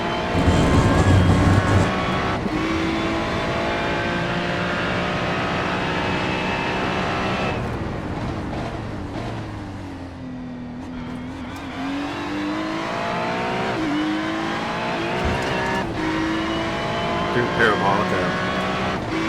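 A GT race car on a hot lap around Hockenheimring in a racing game sends out a loud, sustained engine whine. Its pitch climbs through the gears, then drops and rises again through braking and acceleration, while commentary talks over it.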